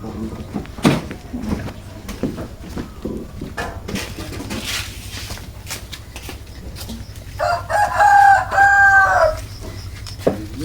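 A rooster crows once, loud and close, outdoors in a village yard, standing out over a busy background of clattering, knocks and people chatting nearby.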